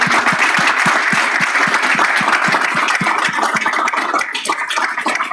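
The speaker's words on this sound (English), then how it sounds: "we can give them a huge round of applause" An audience at a school board meeting applauds school athletes and coaches standing at the front, loud sustained clapping with dense individual claps close by, easing slightly toward the end.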